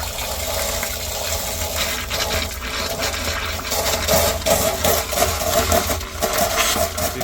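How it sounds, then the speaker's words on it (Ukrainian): Steady gush of coolant draining from a Renault Master van with a leaking radiator, splashing into a container, continuous and fairly loud, with faint gurgling and no talking. "зливаємо з автомобіля жижу"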